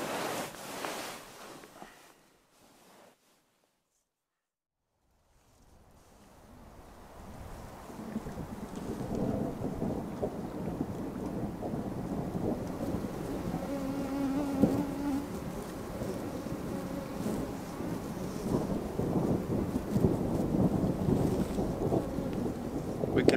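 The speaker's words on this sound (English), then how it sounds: "There's right on the edge of this thunderstorm, booming all around." Thunderstorm in the Wabakimi wilderness with distant thunder booming and steady rain building after a brief silence, a broad continuous rumbling wash that grows louder and stays dense to the end.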